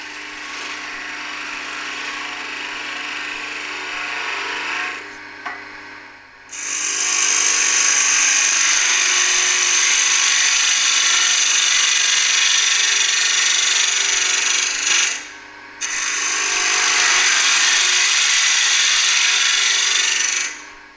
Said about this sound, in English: the tool effortlessly opens up this end grain box lid and is capable of quickly